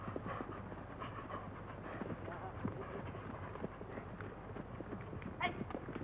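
Horse hooves clip-clop in a loose, uneven rhythm over a steady outdoor background, with people talking nearby.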